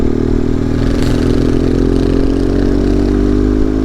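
A group of motorcycles rides together on a mountain outing, with a loud, close engine drone and steady throbbing exhaust from a bike under way, holding even with a slight change in pitch partway through.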